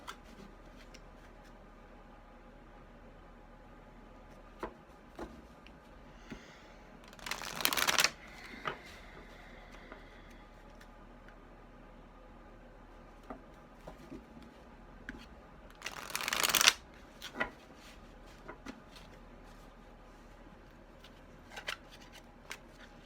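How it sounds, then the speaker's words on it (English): Tarot cards are shuffled in two brisk, crisp riffling bursts well apart, close and clear against a quiet room with a few light taps and handling sounds between them. "I'll flip it when I'm done shuffling."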